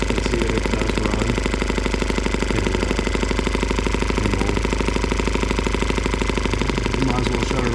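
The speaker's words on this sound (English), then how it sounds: "We'll let it run for a second just so you guys can see that it does run." A cold M12B engine running on alternative fuel chugs with a fast, regular firing pulse and a constant low rumble, loud and close for the whole stretch.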